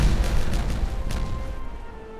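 Dynamite goes off in a video game as a rumbling series of low booms that roll into one another, then fade into a quieter tail.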